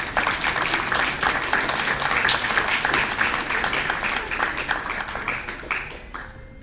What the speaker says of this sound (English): Let's give Sophia another round of applause.